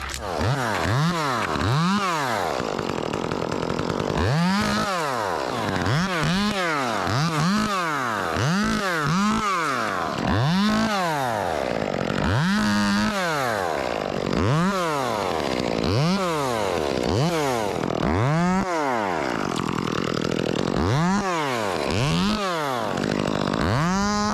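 A chainsaw runs through a big cottonwood takedown, loud and close, its engine revving up and dropping back again and again in quick rhythmic cycles throughout.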